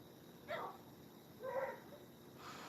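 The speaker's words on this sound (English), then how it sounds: "Even baby girl barking." A dog barks a few times in the distance, faint and muffled yips spaced apart over a quiet, hissing background.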